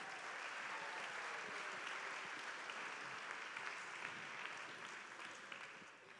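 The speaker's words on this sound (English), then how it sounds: "let's give them a round of applause as they come up" A crowd claps steadily in a dense, sustained burst of applause, fairly distant, tapering slightly toward the end.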